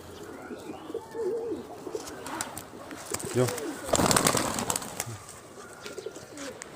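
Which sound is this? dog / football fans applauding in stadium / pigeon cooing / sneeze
pigeon cooing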